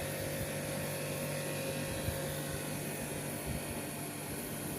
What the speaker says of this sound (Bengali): সেকেন্ড বারে কিন্তু প্রেশার দিয়ে জল মেরে ধুয়ে নেওয়া হচ্ছে